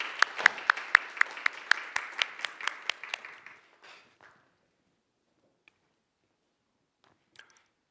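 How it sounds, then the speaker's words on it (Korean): A church congregation claps briefly during a Sunday worship service: a quick run of even, sharp claps that fades out after about four seconds, leaving near silence with a few faint clicks. "우리 하나님께 감사의 박수를 드리시겠습니다."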